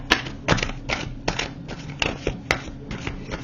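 Tarot cards are shuffled and drawn by hand, a run of quick crisp riffles and soft slaps repeating in an uneven rhythm, close and fairly quiet.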